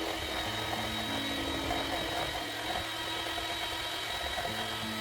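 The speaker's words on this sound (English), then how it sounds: "beat over medium speed until smooth" An electric hand mixer runs at medium speed, beating pumpkin puree into a batter for pumpkin spice bars, giving a steady, close motor whine with a slightly shifting pitch and no pauses.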